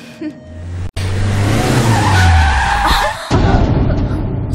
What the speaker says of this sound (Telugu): ఎందుకే సడన్ గా బ్రేక్ వేసావు?